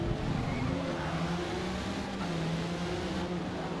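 Race cars in the Forza racing game, including a Corvette, drone steadily with engine tones rising and falling as they run close together, a continuous loud mechanical hum throughout.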